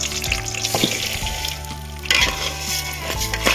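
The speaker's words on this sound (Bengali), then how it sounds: "এবার কাজু আর কিশমিশটা দিয়ে দেবো সামান্য একটু ভেজে নেবো" Cashews and raisins fry briefly in oil with cardamom and cloves for a sweet pulao, a loud, close, steady sizzle with occasional sharper bursts and faint stirring.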